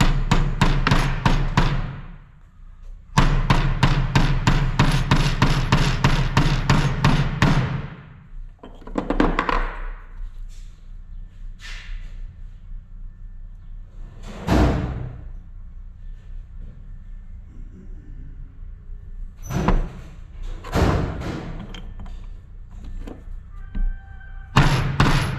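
A small hammer taps a bearing into a Volkswagen alternator in a workshop, sounding as bursts of rapid, sharp metallic blows followed by a few separate single knocks spaced out over a quiet background.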